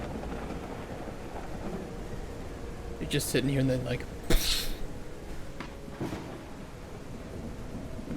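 Thunder and steady rain from a video game in development, with a sharp close thunder crack partway through over a continuous rain wash while someone talks throughout.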